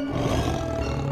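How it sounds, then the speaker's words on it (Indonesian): A tiger, a huge macan gembong, gives a deep, powerful roar that fills the whole moment, loud and close with a rumbling low body and no voices over it. "didengarnya lagi suara auman harimau yang dahsyat dari gerumbul"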